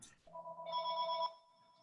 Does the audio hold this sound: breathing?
no